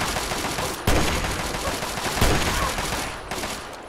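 Rapid gunfire bursts out in the video game Fallout 3, with sharp shots arriving in clusters over a dense, noisy battle backdrop, loud and close, and no voices heard.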